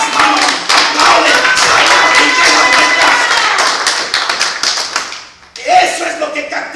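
Church congregation clapping their hands in rhythm, loud and close, with voices mixed into the clapping; it thins briefly and then resumes.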